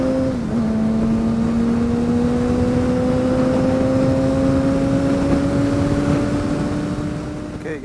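A 2007 Suzuki GSX-R 600 motorcycle engine runs loud and close, with a steady sustained tone that slowly climbs in pitch as the revs rise, then eases off slightly at the end.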